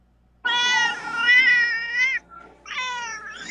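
A cat gives a long, loud, drawn-out meow close by, then a shorter second meow after a brief pause, clear against a quiet background.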